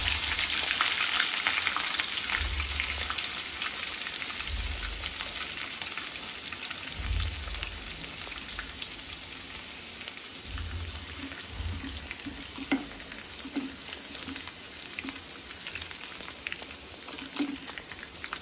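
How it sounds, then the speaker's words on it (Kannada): Crushed garlic fries in hot oil for a sambar tempering, giving a continuous close crackling sizzle with occasional stirring noises and low knocks. "ಬೆಳ್ಳುಳ್ಳಿ ಒಗ್ಗರಣೆಗೆ ಹಾಕೋತಾ ಇದ್ದೀನಿ"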